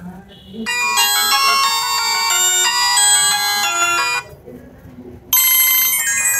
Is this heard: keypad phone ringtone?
yes